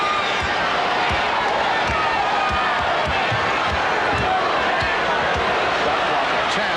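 A packed basketball arena crowd roars in a dense, sustained wash of noise during the 1994 NBA Finals Game 6, Knicks versus Rockets, with a commentator talking over it.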